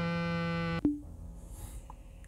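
A phone in a horror video game gives off a steady, buzzing electronic tone that cuts off abruptly with a click, leaving near silence with faint background hum.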